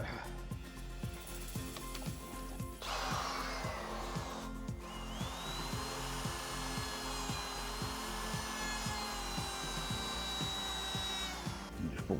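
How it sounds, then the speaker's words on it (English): A router cutter with a blunt, burning bit cuts a radius around the edge of a solid oak porthole, giving a loud steady whine with rhythmic rubbing and scraping pulses throughout. A brief shift in tone comes partway through. "So we're going to use this router cutter now"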